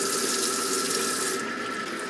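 Tap water runs steadily into a sink while wheatgrass is rinsed, a continuous close splashing hiss with no talk, easing slightly near the end.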